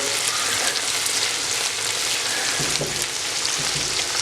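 Onions and roughly chopped plum tomatoes sizzle in a pan over medium-high heat, a continuous close, loud frying hiss with occasional stirring scrapes.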